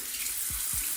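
Hot water runs steadily from a tap into a sink, a constant close hiss with two low gurgling drops partway through.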